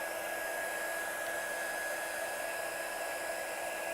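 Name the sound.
heat tool melting embossing powder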